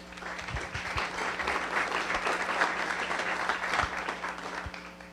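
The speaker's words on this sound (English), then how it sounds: "let's please give her a round of applause" Audience applause at a Las Vegas Rotary Club weekly meeting, a steady dense patter of many hands clapping for about five seconds in a room, with a low steady hum underneath and a few heavier thumps.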